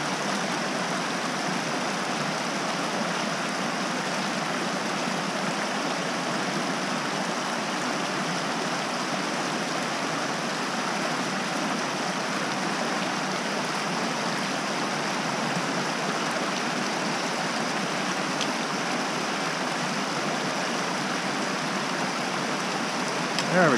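Flowing mountain stream at a notch crossing, a steady loud rushing and burbling of water that continues unbroken throughout.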